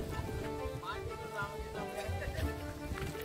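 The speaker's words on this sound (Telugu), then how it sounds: "చూడండి వాన పడుతుంది." Steady rain patters across the whole stretch in the Nallamala forest, a dense even wash of drops with faint voices and movement mixed in underneath.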